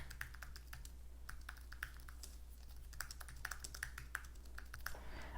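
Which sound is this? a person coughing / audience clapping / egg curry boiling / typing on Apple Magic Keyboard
typing on Apple Magic Keyboard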